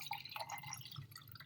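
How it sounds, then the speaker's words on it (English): Cold water pours steadily into a container on a lab scale, a close, continuous splashing and trickling with faint dripping, no voices. "I'm going to put some cold water"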